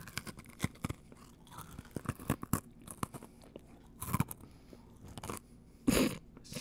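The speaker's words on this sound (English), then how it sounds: "I am eating a pizzeria combo." A crunchy pizzeria-flavored Combos snack is eaten close to the mic, with repeated sharp bites and crunching chews in an irregular rhythm. A few louder crunches stand out and there is no talking.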